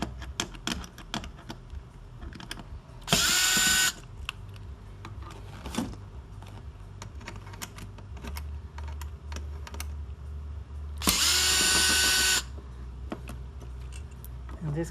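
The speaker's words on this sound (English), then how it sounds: "More screws to be removed from here." A power drill removes screws from a 2006 Dodge Ram 1500 center console in two short whirring bursts, each about a second long, amid light clicking and handling noises.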